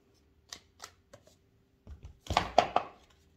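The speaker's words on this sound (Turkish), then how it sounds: "Ben kartlarımı şimdi karıştırıyorum." Tarot cards being shuffled by hand: a few soft separate taps and slides, then a louder burst of riffling and card snaps near the end, close and alone in a quiet room.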